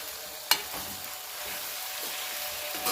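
Bottle gourd pieces with turmeric and salt being stirred in a pot: a steady soft hiss with a sharp clank of the spoon early on and a few faint scrapes after it.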